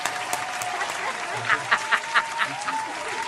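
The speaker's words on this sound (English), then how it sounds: "My man, that's another clap." A small group claps on a radio show, with a short burst of about six distinct, sharp claps in quick rhythm standing out over a steady background of room noise.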